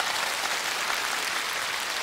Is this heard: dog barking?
no